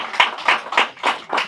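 Short burst of applause: about five evenly spaced, fairly loud claps in quick rhythm, with no talking.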